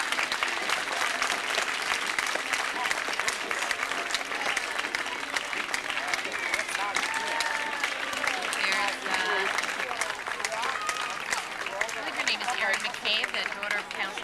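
Spectators lining a summer heritage-day street parade keep up sustained, even applause for marching young girls, a thick unbroken clatter of many hands with faint calls and chatter underneath.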